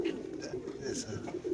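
Soft, repeated cooing of racing pigeons held in numbered cages at a market, close and low, murmuring over a background of other birds and indistinct voices.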